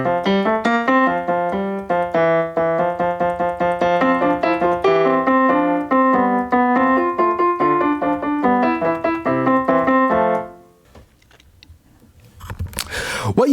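An excerpt of a fugue for men's chorus: sustained sung voices in dense overlapping counterpoint, steady and full for about ten seconds before the singing breaks off into near silence and a short rustle.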